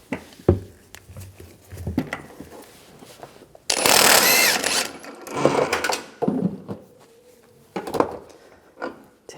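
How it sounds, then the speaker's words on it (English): A power tool with a 24mm socket whirs for a couple of seconds to remove a strut nut, surrounded by clanks and handling noises of tools and parts. "Then using a 24mm socket, we're going to take this nut off."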